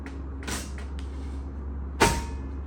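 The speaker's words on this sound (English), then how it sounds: "there's one more click all the way in the back, and that really locks the slides in." Drawer slides on a Grub Galley drawer cabinet clicking and locking into place: a few faint clicks followed by one louder, sharp click near the end, close and otherwise quiet.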